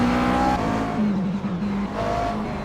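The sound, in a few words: McLaren race car engine in GT racing simulator video game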